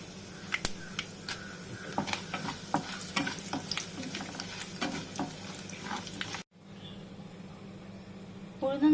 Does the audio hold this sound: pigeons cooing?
no